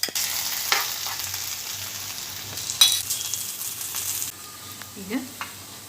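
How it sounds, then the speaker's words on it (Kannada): Cashews frying in a spoon of ghee for the tempering of mint rice: a soft, steady sizzle with a few stirring scrapes and clinks, fairly quiet and close. "ಈಗ ಗೋಡಂಬಿ ಫ್ರೈ ಮಾಡ್ಕೊಳ್ತಾ ಇದ್ದೀನಿ"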